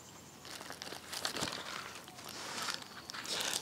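Crinkly plastic packaging of a spare pack of tissues being handled up close, a steady run of rustling and crackling with a few sharper crunches over nearly four seconds.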